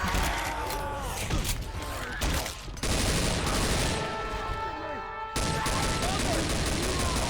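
Gunfire from the US Ranger mod in Left 4 Dead 2: rapid shots and bursts crackle amid other game noise, with a short sharp break partway through, moderately loud throughout.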